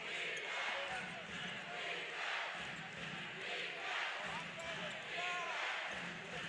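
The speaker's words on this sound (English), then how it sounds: "Flames fans chanting defense" At a UIC Flames college basketball game against Bradley, the crowd keeps up a rhythmic chant with a steady rise-and-fall beat. A commentator talks over the arena noise, and sneakers squeak now and then.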